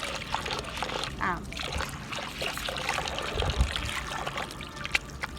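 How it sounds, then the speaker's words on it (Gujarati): Water trickles and splashes faintly over urad dal being rinsed by hand, a low intermittent pouring sound with brief speech. "હજી દાળની ઉપર પાણી આવી રહે ને એટલું પાણી ભરવાનું."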